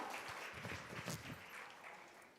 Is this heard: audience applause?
yes